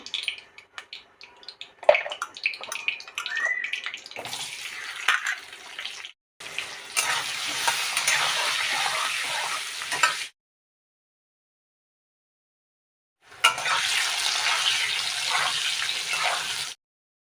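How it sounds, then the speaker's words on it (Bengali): Cut potatoes fry in mustard oil in a wok, giving two long stretches of steady, loud hissing sizzle separated by a silent gap, with quieter clinks and kitchen handling before the frying starts. "আলুগুলো আগে ভাজা করে তুলে নেব"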